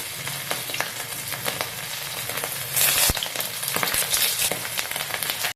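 Tuyo, dried fish, fries in a pan with a loud, continuous crackling sizzle, spitting pops scattered throughout and a brief louder burst partway through.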